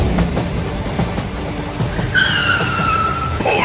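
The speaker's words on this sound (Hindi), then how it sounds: "अरे लगता है ट्रेन रुकने वाली है।" A loud, high-pitched brake squeal rises over rumbling, clattering machinery noise, like a heavy train grinding toward a stop.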